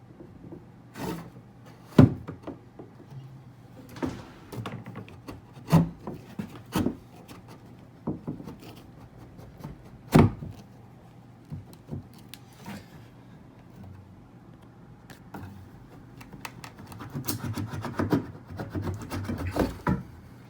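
A wire fish taped to the end of a 1/2 inch drill bit is dragged through a hole in kitchen cabinetry, making irregular scraping, rubbing and knocking sounds with sharp clunks at close range.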